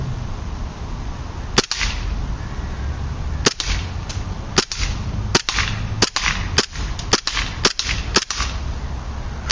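A KWA M93R gas airsoft pistol fires at a small metal pan target, about a dozen sharp snapping shots, some isolated and some in quick clusters, each followed by a short ringing ding.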